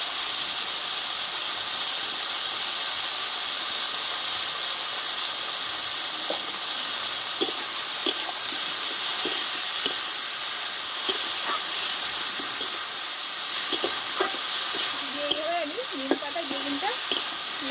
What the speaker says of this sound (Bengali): এবার এখানে নিম পাতা আর বেগুনগুলো দিয়ে দেবো